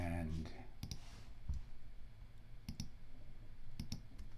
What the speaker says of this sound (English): we'll click on this, and